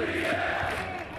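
A massive crowd gathered in the streets below chants and cries out for holy war, a dense, continuous roar of many voices heard at a distance.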